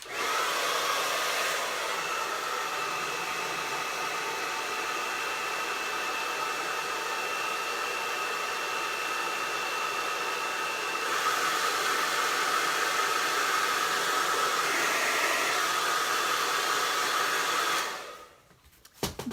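A hair dryer blows on wet paint on an Easter chick craft, a loud continuous whoosh running nearly twenty seconds before it cuts off abruptly near the end.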